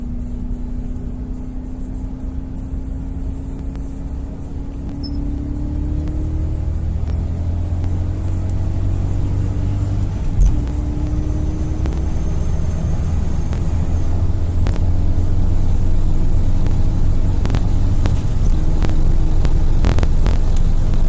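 A BMW E34 540i with a V8 engine accelerating hard, its rising engine note climbing steadily toward about 8000 rpm under a constant loud roar of road and wind rumble, heard from inside the car.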